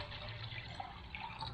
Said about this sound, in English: Pour it into the Jetboil so we know.